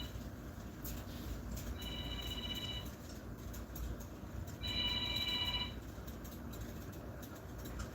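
A phone ringtone chimes in two short bursts of ringing over a steady background hum, with a pause between them, in a home livestream setting.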